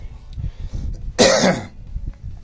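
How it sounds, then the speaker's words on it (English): A single harsh cough bursts out close by, standing out sharply against quiet outdoor background noise. "But sorry for the coughing."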